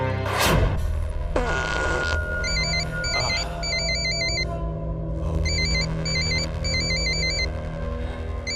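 A phone ringtone chirps in repeated electronic bursts, loud and close, with a sharp knock and some rumbling noise at the start and no talking.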